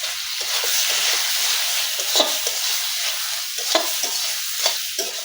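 Cumin and dried chilli paste sizzles steadily as it is fried and stirred for a Bengali mushroom curry, with a continuous close hiss and occasional scraping clicks from the spoon against the pan.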